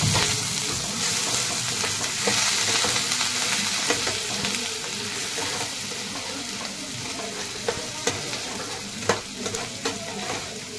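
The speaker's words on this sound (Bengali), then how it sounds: "এবার আমি পেঁয়াজ আর আদা বাটা দিয়ে দিলাম। এবার নেড়ে নেব, একটু ভেজে নিয়ে" Onion and ginger paste being stirred and fried in a pan for a Bengali doi koi fish curry. It makes a steady loud sizzle with scraping spatula strokes and a few sharp clinks near the end, with no voice.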